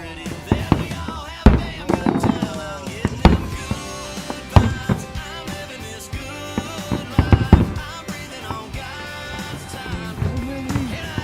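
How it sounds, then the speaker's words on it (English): Fourth of July fireworks boom and crackle in a steady series of bangs, some sharp and close, with crowd noise and faint voices mixed in. "we got to enjoy the wonderful 4th of July fireworks for a second time"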